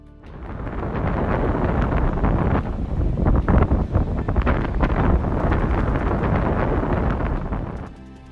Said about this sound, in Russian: на этих кадрах мы видим, что порывы ветра гораздо сильнее, чем на предыдущем видео